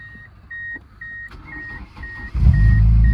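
A Ford Escort GT with 350,000 miles starts up: a steady series of beeping chimes with faint cranking, then the engine catches and rumbles loudly at close range.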